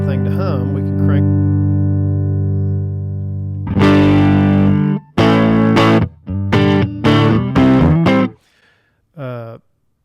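Distorted electric guitar played through a Fender ToneMaster Pro amp, loud and close, with a sustained chord followed by several sharp chopped bursts and a short final stab.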